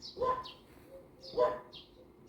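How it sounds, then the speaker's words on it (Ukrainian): Cuckoo calling in spring in Dnipro, Ukraine, two soft two-note calls repeated about a second apart, moderately distant against quiet background. "спів зозулі. Чуєте?"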